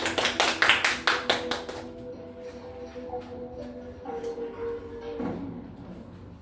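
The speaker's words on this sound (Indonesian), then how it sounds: "tepuk tangan untuk Mbak Inayah" Students in a classroom clap for a classmate in a quick, brief burst of close claps that stops after about two seconds, leaving quiet room noise with faint scattered knocks.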